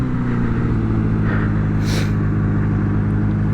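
A Honda CB750 motorcycle engine idling and being blipped after a carburetor swap, a loud, close, steady rumble with a brief rise in revs near the middle before settling back.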